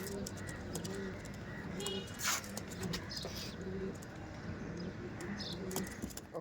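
Punjabi Malbayi pigeons coo softly in a loft, low repeated calls drifting at moderate distance over steady background noise, with occasional chirps and faint clatter.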